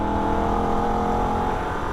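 A Holden VF Ute's engine held at sustained high revs under wide-open throttle on the Nürburgring run up to the Carousel, a loud, steady, close drone with a strong harmonic whine and no gear change.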